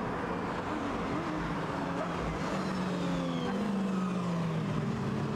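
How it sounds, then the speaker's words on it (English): Racing cars lap the Spa circuit in a pack behind the safety car, a continuous steady engine drone with rising and falling pitch as cars pass at moderate distance, no clear speech. "Cars wind the way in, safety car lights are out."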